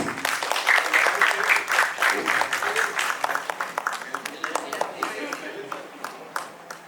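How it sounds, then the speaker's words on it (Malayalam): An audience at a success celebration for the film Anweshippin Kandethum breaks into lively applause. The dense clapping is loud at first, then thins into scattered individual claps as it fades. "Round of applause please."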